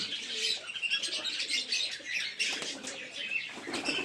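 A green male Giribaz pigeon flaps its wings as it takes off, the rapid fluttering beats mixed with soft chirps and cooing from nearby birds, all at low volume.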